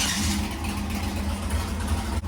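A 5.3 LS V8 with a brand-new carburetor idles on a dyno, a steady low rumble with a firm, even pulse, close and loud, with a brief dip near the end.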